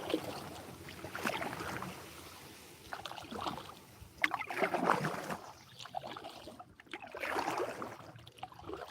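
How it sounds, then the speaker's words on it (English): A kayak is paddled across calm water at the start of a multi-day trip, with soft rhythmic splashes and drips from each stroke coming and going, quiet and close, with no voices. "I just pushed off. And started paddling"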